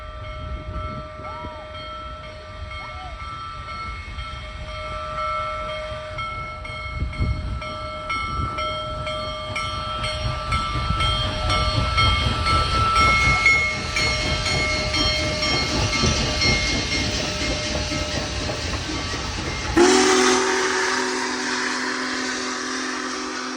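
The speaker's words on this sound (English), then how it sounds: "here comes Big Boy roaring her way out of Lorraine" The Big Boy steam locomotive roars past, its heavy rumble building and holding while the steam whistle sounds in sustained tones, ending in a loud whistle blast.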